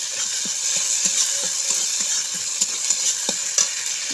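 Vegetable stems and potatoes fry in spice masala for a thin fish curry, a continuous hiss of hot oil with soft regular stirring taps about twice a second, close and steady with no talk.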